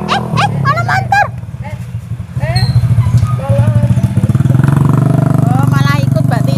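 A motorcycle engine putters nearby and grows steadily louder and more rhythmic, while people talk over it.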